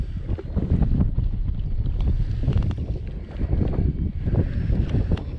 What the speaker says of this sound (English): the wind's getting up a little bit now